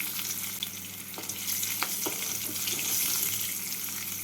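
Nigella seeds with red and green chilies sizzling in hot oil, a steady close frying hiss with a few small pops and spatula taps.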